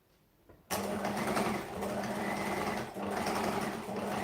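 A sewing machine chain-pieces fabric and starts abruptly after a quiet moment. It runs at a fast, steady whir with a couple of brief dips, close and loud, with no speech.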